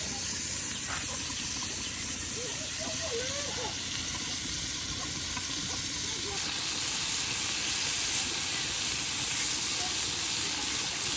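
Fried fish pieces slide into a sweet gourd curry with rohu, cooked outdoors for iftar, setting off a steady, loud broadband hiss of sizzling that runs unbroken throughout, with faint voices underneath.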